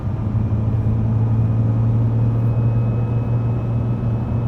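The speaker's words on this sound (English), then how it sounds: "Oh, there's that whine Ed was talking about" A cheap flood-damaged Ferrari cruises in sixth gear, its steady engine and road drone carrying a thin, constant transmission whine that runs on without a break.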